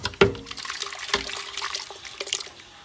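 Water sloshing and splashing as a cooking pot is rinsed on a stove while making tinga, with a sharp clank at the start followed by a steady run of small liquid splashes and drips up close.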